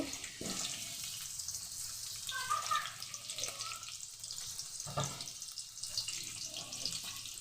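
Sliced onions sizzle in hot oil in a pot while egg curry is started, a steady broadband hiss with occasional soft stirring clinks, close and moderate in level with no talk.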